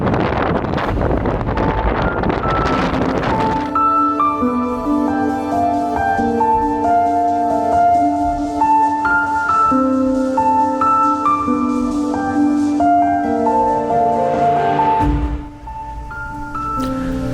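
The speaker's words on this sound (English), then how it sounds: "the wind, particularly on top there, was absolutely horrendous" Strong wind roars and buffets the microphone on a cold Peak District hilltop for a few seconds. It then gives way to steady music that fills the rest of the clip.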